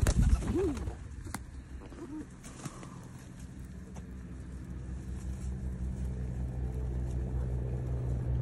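Pigeons coo briefly at an outdoor art festival, a couple of soft calls near the start, then steady traffic and motor hum rumble on alone through the rest.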